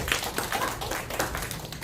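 A church middle-school group claps for a student's birthday during a Sunday service, a short burst of close, steady applause from a small crowd.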